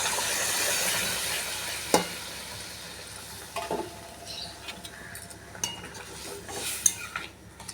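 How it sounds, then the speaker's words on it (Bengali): Dal is stirred into a pan of cooking masala for an egg dal, a soft sizzling simmer with a few sharp spoon-on-pan scrapes and clinks scattered throughout. "এবার আমি দিয়ে দেবো ডাল এতে।"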